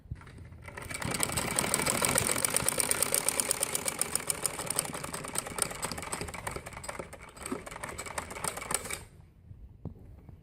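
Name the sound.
sewing machine stitching a kali frock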